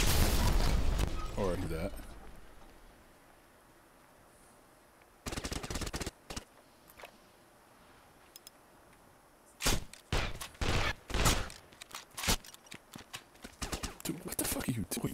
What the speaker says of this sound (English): Damn, they're shooting us, dude.